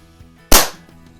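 A single sharp shot from an Ampell Acro 1 air pistol, freshly resealed, loud and close with a quick crack that decays over a fraction of a second, preceded by a faint click.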